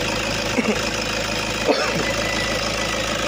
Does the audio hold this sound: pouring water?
no